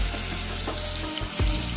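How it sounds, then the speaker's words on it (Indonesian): Tempeh fries in hot oil in a big batch, giving a continuous crackling sizzle with a few clattering bumps near the end, and no talk. "Tempenya gorengnya banyakan aja biar cepat ya."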